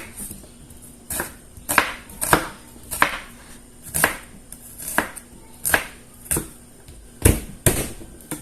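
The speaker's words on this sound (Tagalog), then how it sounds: "Chop natin yan." Knife chopping mussels and aromatics on a cutting board in a home kitchen, about a dozen sharp, evenly spaced chops close up with no talking.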